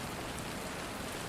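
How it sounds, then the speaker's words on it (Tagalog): Rain falling steadily, a dense even hiss of drops on surfaces, soft and continuous with no voices. "Aron sa ingon, dili ka mabasa sa ulan."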